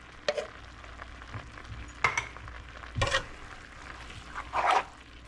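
Spoon stirring a rice and meat mixture in a pot, with four or five distinct scraping, clinking strokes against the pot over a low simmering sizzle, close and moderately quiet.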